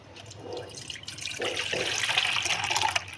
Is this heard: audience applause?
no